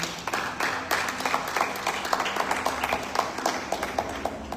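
Church congregation applauding, a continuous rippling clapping of many hands at moderate volume, steady across the whole span with some voices mixed in.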